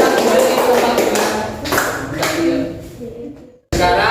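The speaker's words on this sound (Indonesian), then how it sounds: "Tepuk tangan untuk semuanya yang sudah berdiskusi" Classroom applause as a group of students claps hands for everyone after a discussion, a dense, fairly loud patter of many hands mixed with voices, fading toward the end before a brief silence and a sudden loud return.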